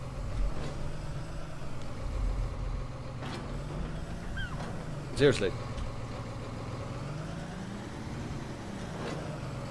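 A tractor idles on a farm with a steady low rumble that runs throughout. A person talks over it, and a brief clatter sounds partway through.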